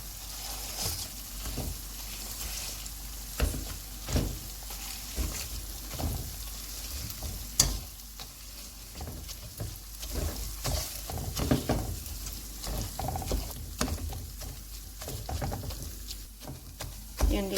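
Chopped boiled eggs are stirred into a sizzling egg curry masala in a dhaba-style pan, soft frying hiss running under irregular scrapes and knocks of the spoon, fairly quiet and close.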